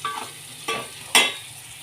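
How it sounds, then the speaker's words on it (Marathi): Chilli powder and spices being stirred and sautéed in a pan for a Konkani-style prawn cashew masala curry, giving a soft steady sizzle broken by three short scraping stir strokes. "मसाले आपले व्यवस्थित परतून झाल्यात।"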